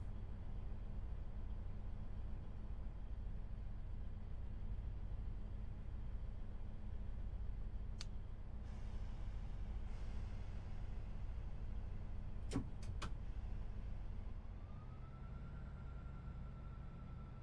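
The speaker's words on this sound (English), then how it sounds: "Engine's on. We can hear it running." Train engine idling steadily in the Train Sim World 5 game, a constant low rumbling drone throughout with a few brief high clicks and a rising tone near the end, no talk.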